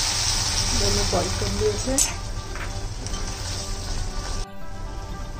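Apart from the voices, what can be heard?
butter sizzling in pan with boiled sweet corn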